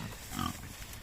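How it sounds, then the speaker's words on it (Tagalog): Native pigs fed leftover feed refused by goats and sheep let out a short, soft grunt, faint and close, against quiet farm background noise. "So dito natin siya ibibigay sa native nating baboy."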